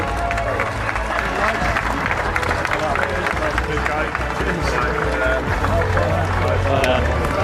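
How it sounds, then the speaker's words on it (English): A crowd at the Canadian Grand Prix raft race applauds and cheers the winning Williams team, with dense clapping mixed with loud chatter and voices throughout. "A huge round of applause for the boys."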